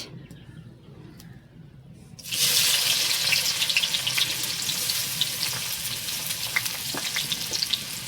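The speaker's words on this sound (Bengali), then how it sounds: "পেঁয়াজটা লাল লাল করে ভেজে নেবো" Onions drop into hot oil for chicken egg chowmein, bursting into a loud, steady sizzle after a quiet start, with occasional sharp crackles and stirring scrapes throughout.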